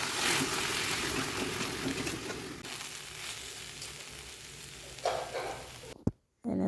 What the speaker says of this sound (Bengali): অল্প মাছের ঝোল দিয়ে আমি কষাই নিব।